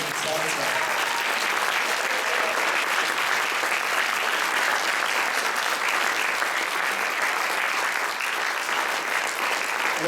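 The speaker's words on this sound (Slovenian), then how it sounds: "Dajmo še en velik, lep aplavz za vse plesalce in plesalce." Dense, steady applause from a dance competition audience after the youngest category's solo and duet dancers, many hands clapping loudly and continuously with crowd murmur mixed in.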